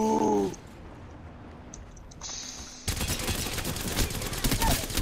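Rapid, dense gunfire breaks out in an Apex Legends match after a short voice and some quieter game sounds, and it carries on loud and sustained.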